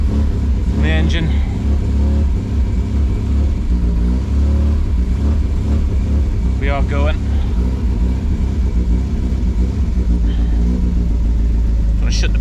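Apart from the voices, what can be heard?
Triumph Spitfire 1500 engine running and revving with throttle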